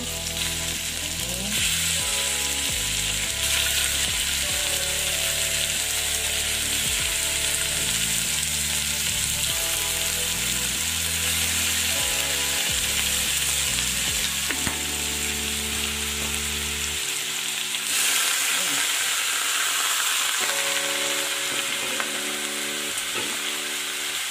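Chicken sizzling and sautéing in a pan for Filipino-style cooking, a loud continuous frying hiss with intermittent stirring scrapes, close and alone, with music playing underneath.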